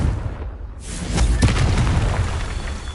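Confringo fire spell exploding in Hogwarts Legacy, a heavy booming blast that swells after a short lull and rumbles on with a low, sustained roar and crackle.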